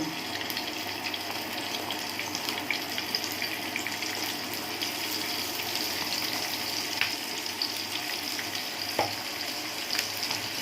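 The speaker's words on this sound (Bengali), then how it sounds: "পেঁয়াজটা আমি একটু লাল করে ভেজে নিলাম" Onions frying in hot oil in a home kitchen pan, a steady broadband sizzle running unbroken throughout with faint clinks and scrapes, no voices.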